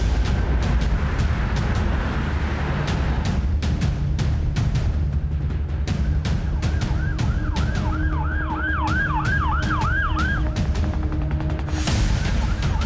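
An ambulance siren wails in a fast rising-and-falling pattern over steady traffic noise, with passing cars rumbling throughout.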